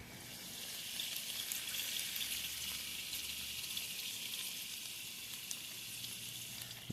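French fries pan-fry in oil with a faint, steady hiss and fine crackle, distant and even throughout.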